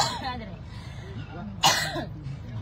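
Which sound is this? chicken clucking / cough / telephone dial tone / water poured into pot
cough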